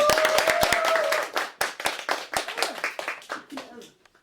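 An audience claps at a Korean traditional music (pansori) academy performance, a burst of loud sharp claps that thins out and fades, with a voice speaking over the start and a sung note briefly audible.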